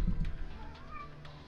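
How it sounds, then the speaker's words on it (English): A cat meows softly once or twice in the background of a quiet indoor room, faint and brief under a low hum. "if you can hear that meowing sound in the background, that is my cat"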